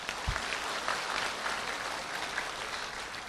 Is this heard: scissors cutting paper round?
no